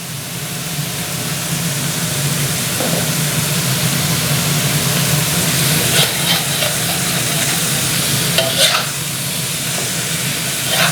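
Chicken liver stir-fried with three-colour chillies in a wok over high heat gives a constant hissing sizzle with a few sharp utensil clatters, moderately loud and alone.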